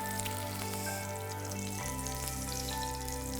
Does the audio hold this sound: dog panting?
no